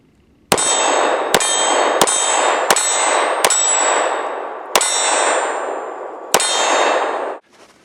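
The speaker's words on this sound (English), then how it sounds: "But Evil Roy is set up downrange, so let's go see if we can bust him." Seven gunshots from a Kimber Super Carry Pro 1911 pistol ring off a steel target downrange, each a sharp clang with a long metallic ring that decays into the next, spaced irregularly about a second apart with no talk.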